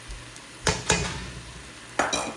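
Pieces of capsicum are stirred into onions frying in a pan, a low sizzle broken by a few sharp scraping bursts from a spoon against the pan.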